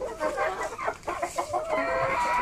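Backyard chickens cluck in a rapid, uneven series of short calls, fairly close and clear, with no talking over them.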